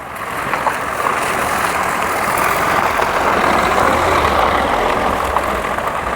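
A car edging slowly over rubble and large stones on a rough mountain road on the way to Yamunotri, its engine a steady loud rumble with crunching underneath throughout and no speech.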